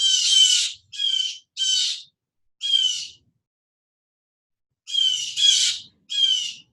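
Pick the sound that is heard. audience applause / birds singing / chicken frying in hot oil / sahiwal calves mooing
birds singing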